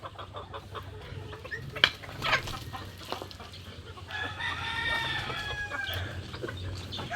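Hens and roosters on a Philippine farm clucking in short bursts, followed by a rooster crowing near and clear in the middle of the stretch, with steady low background hum throughout.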